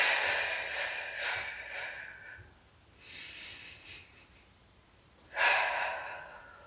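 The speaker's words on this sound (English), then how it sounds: "We're going to have 2 more big breaths here." Deep breaths during an advanced mat Pilates class: a long audible exhale, a softer breath in, then another strong breathy exhale, close to the microphone with no talking.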